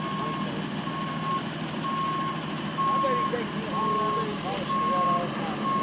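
A truck reversing with repeated backup beeps during overnight road work on Main Street, a steady pulsing tone over engine rumble and traffic noise, with a voice speaking briefly.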